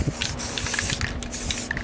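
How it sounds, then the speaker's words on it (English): A can of regular flat white spray paint hisses in a steady, continuous spray for a couple of seconds, held close, applied through a small homemade stencil to make a stone-like finish. "I have some regular flat white spray paint"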